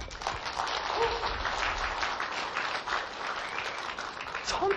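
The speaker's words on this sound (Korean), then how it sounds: "박수 한번 해주십시오." An audience at a lecture on Tchaikovsky's 1812 Overture claps steadily, a dense even wash of applause lasting several seconds with faint voices underneath.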